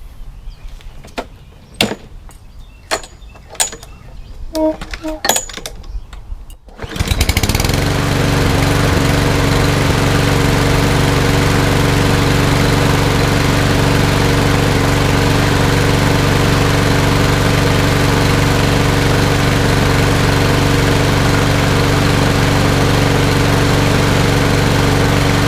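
Toro lawn mower with a Briggs EX engine, recently troubled by water in the gas, first a few clicks and clunks, then it fires up and runs with a loud steady droning roar close by.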